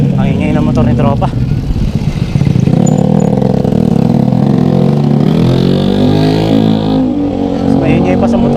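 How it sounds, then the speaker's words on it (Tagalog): A noisy motorcycle engine roars and revs close by on a rainy road, its pitch rising and falling through throttle changes, with voices talking over it. "Ang ingay ng motor ni tropa."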